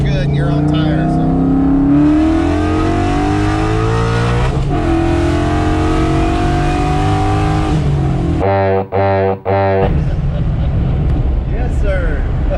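A Coyote-swapped Ford Fox body car engine revs hard and climbs through the RPMs, loud and close, with a brief lull and a couple of sharp gear-change dips near the end as people talk over it.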